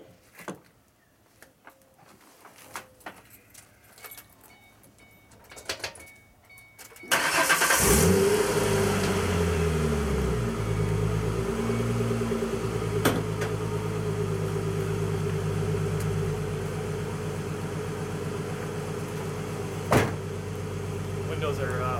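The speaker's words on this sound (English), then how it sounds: "So I'm gonna start it up, see how it sounds." A Ford Mustang engine cranks and catches about seven seconds in, then settles into a steady, fairly loud idle with a low rumble, following quiet handling sounds and faint talk beforehand.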